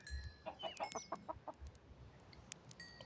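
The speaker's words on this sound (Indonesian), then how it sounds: "aku akan kembang biakan ayam-ayam ini" Minecraft chickens give a quick run of soft, rhythmic clucks at a moderate distance, then fall quiet apart from faint background noise.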